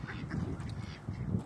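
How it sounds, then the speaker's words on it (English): A goose calls in a steady run of nasal, duck-like quacks and honks, fairly close and continuous with no talking over it. "My name for that goose would be Brachiosaurus duck."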